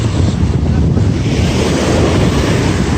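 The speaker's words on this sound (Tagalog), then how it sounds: "Ang lakas pa rin ang alon, no?" Strong ocean waves surge and break continuously at a beach cove, a loud, dense roar of surf with steady wind buffeting the microphone throughout.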